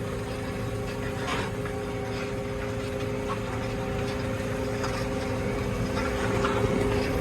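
A New Holland T7220 tractor ploughs up a hill with a steady, droning engine that holds a constant loud rumble throughout, and faint rattles sit on top.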